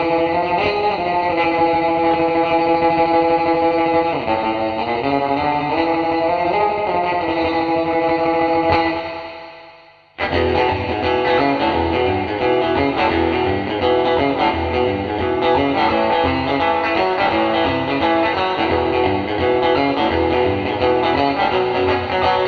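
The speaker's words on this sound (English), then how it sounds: "So here's the spring reverb with a lot of reverb for classic surf sounds" Electric guitar played surf-style through a TC Electronic Hall of Fame pedal on a heavy spring reverb setting, strummed chords and bends washing into a long splashy tail, with a brief cut to near silence midway before playing resumes.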